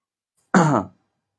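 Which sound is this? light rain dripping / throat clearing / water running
throat clearing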